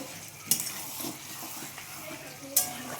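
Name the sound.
fried potatoes being sautéed with mutton in a pan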